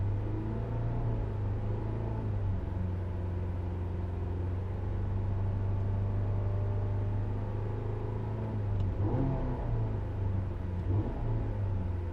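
A car engine idling with a steady low hum, then rising in a couple of revs as the pedal is pressed, pitch climbing and falling back, close and continuous with no talking.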